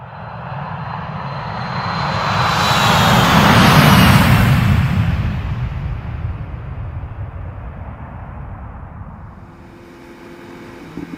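A 2019 Aprilia Tuono 1100 Factory motorcycle roars under acceleration, its broad engine noise swelling to a loud peak, then fading away to a lower, steadier hum with no talking.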